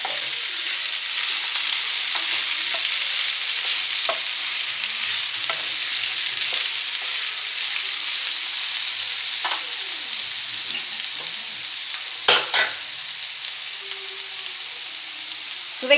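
Boiled, drained elephant foot yam frying in a pan, a steady close sizzle of hot oil broken by occasional scrapes and knocks of stirring, with no talk.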